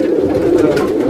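Fancy Kanto wale teddy pigeons at a pigeon farm in Parbhani coo in a steady, close, low throaty rumble that fills the short moment without a break.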